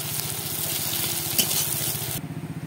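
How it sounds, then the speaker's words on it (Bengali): Sliced onions fry in a hot pan until reddish-brown, giving a steady, close sizzle with a soft bubbling crackle that drops off abruptly near the end. "পেঁয়াজটাকে লাল লাল করে ভেজে নেব।"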